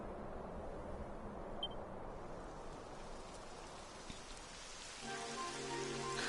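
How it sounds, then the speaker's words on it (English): Steady rain begins falling in the Dragon Quest XI video game during a rocky mountain climb, a soft even hiss that grows a little denser near the end. "It would have to go and start raining, wouldn't it?"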